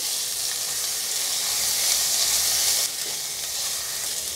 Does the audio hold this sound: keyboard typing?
no